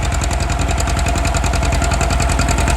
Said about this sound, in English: John Deere 630. Pulling the 3-bottom plow.